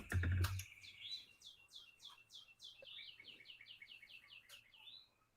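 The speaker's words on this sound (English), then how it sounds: "God damn those birds." Birds chirping outside, a quick series of repeated high sweeping chirps in rhythmic runs, fairly faint and close, following a short loud thump at the start, over a low background hum.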